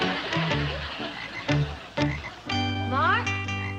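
A pet frog croaks in a cement pond in a sitcom scene, with repeated bursts of croaking and a sustained, fluttering croak at the end, fairly close and clear with faint background sound.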